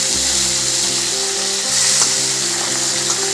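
Tomatoes frying in hot oil for a spicy Telangana-style tomato chutney, a steady broadband sizzle with crackling texture running continuously and close, with a faint tonal hum underneath.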